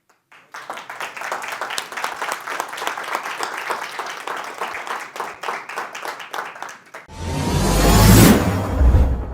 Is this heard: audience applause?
yes